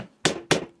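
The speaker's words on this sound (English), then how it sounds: "little hammer won't hurt, right? Little hammer to the corners." A small hammer taps the corners of a vacuum-sealed bag of sprouted organic flour, two sharp close thuds about a quarter second apart.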